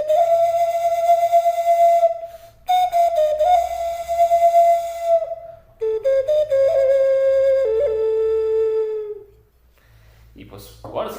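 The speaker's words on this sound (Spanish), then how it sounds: "Y esta pues sería un tipo de ocarina" A bifurcated Teotihuacan clay ocarina with one mouthpiece splitting into two ends plays a breathy, flutelike pure tone in several long held phrases that slide and dip, close and clear, ending with a brief rustle.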